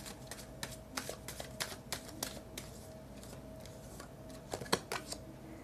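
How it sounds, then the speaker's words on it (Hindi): A deck of tarot cards being shuffled by hand gives quiet, rapid, irregular clicks and riffles that run throughout, close up and with no talking. "कुछ टाइम और शफल करते हैं।"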